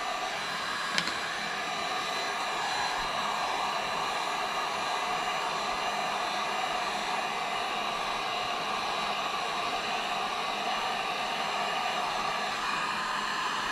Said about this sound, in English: So let's get this heat gun going here.